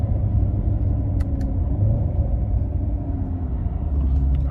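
A 2017 Chevrolet Corvette C7 Grand Sport on a test drive in tour mode, its engine a steady, loud, deep rumble heard from inside the car with no talking.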